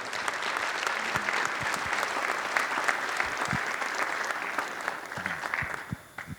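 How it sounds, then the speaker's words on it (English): Audience at a diversity and equity professional development event applauding a speaker, a sustained dense patter of many hands clapping that thins out near the end. "big round of applause for Kevin White"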